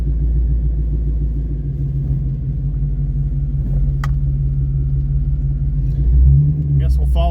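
A 1993 Chevy Blazer engine rumbles steadily from inside the cab while driving, with a deep continuous drone and a brief swell near the end.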